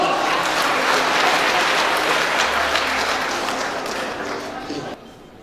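An audience at a motivational seminar breaks into dense, sustained applause from a full room that fades over several seconds before cutting off.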